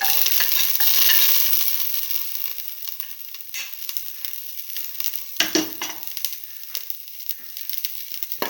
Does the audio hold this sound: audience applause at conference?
no